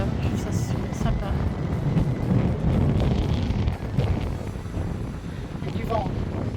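Blustery wind at the seaside in Normandy buffets the microphone in a steady, loud rush that swells and eases over several seconds.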